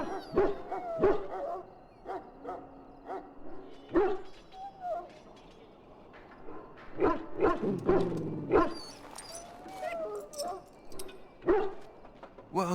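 Mabari war dog in Dragon Age: Origins, repeated close whimpers, yelps and short barks in irregular bursts over quiet game ambience.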